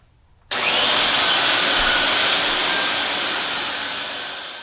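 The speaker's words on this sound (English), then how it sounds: "This belt sander will just do the process that much quicker." A belt sander with a 40 grit belt starts up abruptly and runs on wooden boards for a shelf, making a loud, steady broadband roar that holds without talk and fades slightly toward the end.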